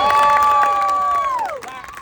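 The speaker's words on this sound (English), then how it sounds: "Everybody give this guy a big round of applause." Parade crowd at a Thanksgiving Day street parade in New Orleans cheering and shouting, with a loud sustained high whistle or horn tone that bends downward and fades near the end amid scattered yells.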